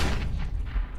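A flashbang grenade detonates in CS:GO as a single short, heavy bang with a rough, booming body, loud and close.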